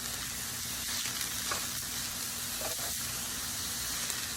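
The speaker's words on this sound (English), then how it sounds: "And the mushrooms are added to the onions." Mushrooms and onions sizzling in a pan give a faint, steady hiss with a few soft stirring scrapes, heard alone with no voices.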